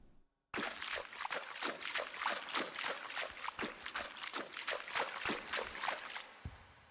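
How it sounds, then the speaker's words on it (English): In a game under development, water trickles and splashes in a busy, uneven stream of small bursts. The sound starts suddenly after a short silence and keeps going, faint and alone. "Does it play water sounds?"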